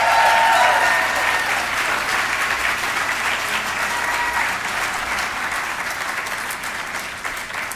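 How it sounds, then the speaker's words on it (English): An audience at an awards celebration applauds loudly and steadily, a dense close wash of clapping that tapers slightly toward the end. "Thank you for sharing that applause."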